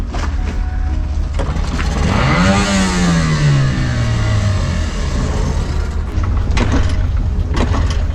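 A boat tender's small outboard motor starts and revs, climbing in pitch then settling into a loud, steady running drone close by, with no talking.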